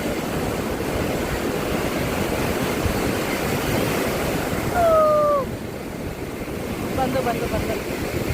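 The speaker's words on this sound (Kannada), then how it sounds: "ಅಲ್ಲಿಂದ ದೊಡ್ಡ ಅಲೆ ಬರ್ತದೆ ನೋಡ್ರಿ" Big sea waves break on a beach in a continuous rushing roar, steady and fairly loud, with a brief whistle-like tone rising over it midway.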